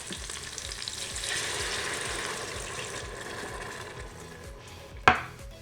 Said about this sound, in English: And now I'm gonna add the rest of that beef broth.